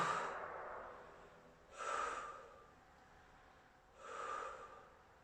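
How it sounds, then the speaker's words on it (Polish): Deep breaths in and out during a stretching exercise, three slow, soft breath cycles spaced about two seconds apart, close and quiet with no talking. "Pamiętaj o oddechu, oddychaj głęboko."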